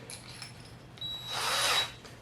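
Power drill boring a short hole into a cast zinc figurine, a brief high whine spinning up and biting into the metal for under a second, close and clear against a quiet room.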